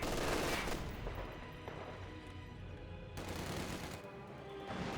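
Dense rattling machine gun fire from an MG42 in the Company of Heroes 2 video game, a continuous loud burst mixed with other battle noise throughout.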